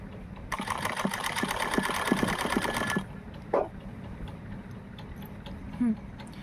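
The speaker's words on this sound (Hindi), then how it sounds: "इनको इस तरह से जोड़ करके इस तरह से स्टिचिंग करनी है" Sewing machine stitching joined salwar fabric pieces, a loud steady rapid mechanical whir running for about two and a half seconds, then stopping, followed by quieter handling noises and brief soft clicks.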